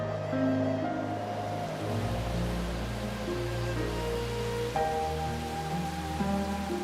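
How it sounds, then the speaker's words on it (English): Heavy spring rain falling at Odaigahara, a dense continuous wash of hiss over a deep steady rumble, loud and unbroken throughout. "Once again, the heavy rains return to Odaigahara."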